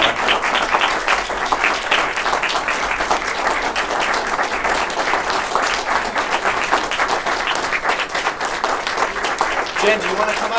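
An audience at a Love Our Great Lakes Day workshop applauds, a dense, loud, sustained clapping throughout with some voices mixed in.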